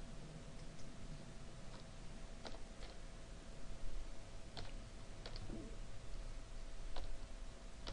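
Stock ticker symbols are typed on a computer keyboard, giving scattered, sparse key clicks in short bursts over a low room hum, with no talking.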